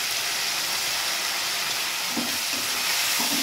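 Garlic paste fries and is stirred in a pan for a fish masala curry, a steady close sizzle with a few soft scraping stirs late on.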